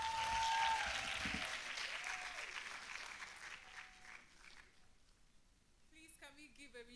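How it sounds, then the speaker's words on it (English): An audience at a leadership forum applauds. Dense, fairly loud clapping fades gradually, and voices come in near the end. "Please, can we give a resounding applause for our founder and executive director?"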